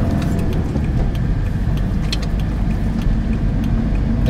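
A car driving on the road toward Białystok, Poland, with a steady loud engine and road rumble heard from inside the cabin, continuous and even throughout, with no talking.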